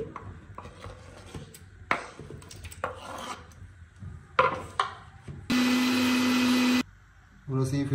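Blender grinding boiled tomatoes, green chilies and onion for pizza sauce, heard as a loud steady whir for about a second near the end after scattered knocks, lid clatter and handling sounds.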